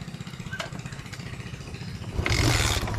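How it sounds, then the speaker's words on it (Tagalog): A Fury 125 motorcycle, with no battery or starter and fitted with a universal CDI, is kick-started: low rhythmic engine pulsing throughout, then the engine catches and grows louder and stronger near the end. "Kick na lang natin guys."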